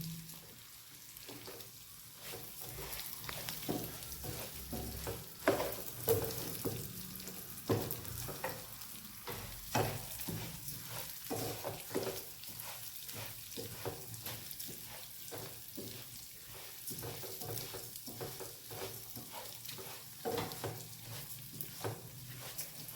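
Mutton for Thalassery mutton biryani frying in a pan, a steady close sizzle with irregular crackles and stirring scrapes running throughout, no voices.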